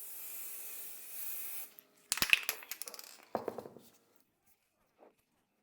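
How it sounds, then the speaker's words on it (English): A steady hiss of varnish sprayed from an aerosol can fades out, followed by a clatter of handling sounds and a faint final knock. "Spray our varnish, that's it, 40 minutes."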